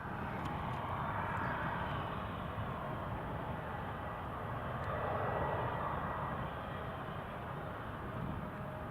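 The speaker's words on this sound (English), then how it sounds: "Going to be a short takeoff run." An Embraer jet rolls down the runway on its takeoff run at Newcastle International Airport, a steady broad engine roar holding loud and fairly close throughout with a slight swell midway.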